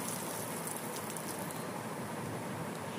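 Potato, egg and bread chops frying on low heat, a steady dense sizzle and crackle of oil that carries on without break and with no voices.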